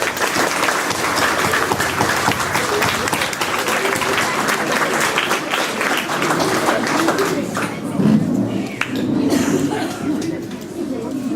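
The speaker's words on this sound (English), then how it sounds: "So give yourself a round of applause." A youth football banquet crowd of players and families gives the fifth graders a loud, dense round of applause, continuous and close, with some chatter and laughter mixed in as it starts to thin near the end.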